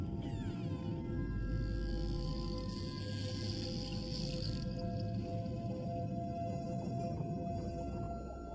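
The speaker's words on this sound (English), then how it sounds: "they've caught the attention of a rough-toothed dolphin." Rough-toothed dolphin underwater in the open ocean, giving high, squealing whistles and chirps over a dense, steady low rumble of water noise, with no speech.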